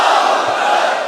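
A large crowd roars a religious slogan in unison at a rally, a dense, loud, sustained wall of voices answering the call, with no single speaker standing out.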